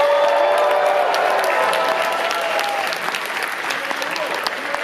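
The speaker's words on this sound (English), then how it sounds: "and Daryl, there is a cheer from the crowd." A live audience at an RTX Austin 2018 panel breaks into sustained applause and cheering, a dense wash of clapping that stays loud throughout and tapers slightly toward the end, with scattered voices mixed into the crowd.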